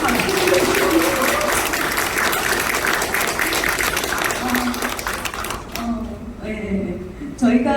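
Audience applause at a reading event in a multipurpose hall, a dense wash of clapping that fades near the end, with voices talking over it throughout.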